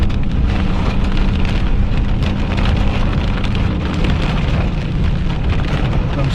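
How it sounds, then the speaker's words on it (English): Heavy rain pours during a thunderstorm on a dirt road, a dense, constant hiss of drops drumming close by on surfaces, loud and unbroken for the whole stretch. "it's raining so bad that the road is flooding as we speak"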